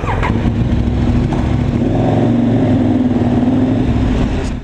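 A BMW C400X scooter's engine revs steadily and loudly up close, a continuous mid-pitched drone with rising tone toward the middle and no talk over it.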